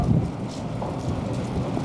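High wind outdoors rumbles and buffets the microphone in a continuous low roar with small gusty swells, close and steady, no speech over it.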